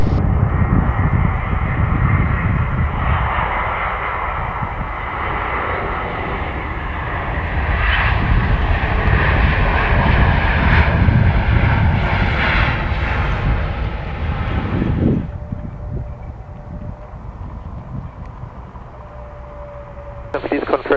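An Airbus-type airliner lands at Belgrade airport with a loud, roaring jet rush that swells, peaks and then fades into a quieter whine. Radio chatter from air traffic control plays underneath.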